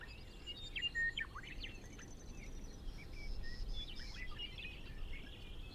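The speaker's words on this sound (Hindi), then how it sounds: "पंछी की चहचहाट" Birds chirping in a calm natural garden setting, with several short bright calls and trills scattered over a faint steady background hum of insects.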